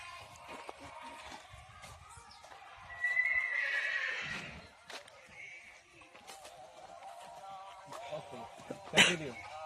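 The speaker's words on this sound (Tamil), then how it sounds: "இந்த குதிரை வந்து பொட்டை குதிரை." A mare neighs on a farm near Sathyamangalam, one drawn-out whinny in the middle with a sharp shorter call near the end, fairly close, amid soft hoof shuffles and quiet background talk.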